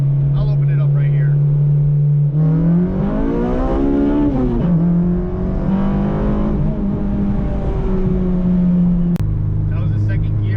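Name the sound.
car accelerating hard in second gear on highway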